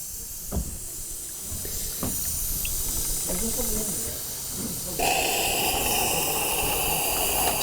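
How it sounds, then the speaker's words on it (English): Steam hisses through the cylinders of a model Beeleigh Mill steam engine, a constant close hiss that swells louder and brighter partway through, with faint clicks and knocks from the model. "So the steam's coming through, it's heating up the cylinders."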